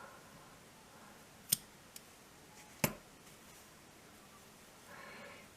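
Scissors snip the yarn end of a piece of crochet work, giving two sharp, quiet clicks a little over a second apart in an otherwise hushed room.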